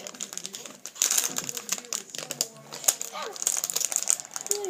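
Crinkly plastic packaging of a Lego Batman set rustles and tears close by in bursts, with scattered clicks and rattles while someone talks.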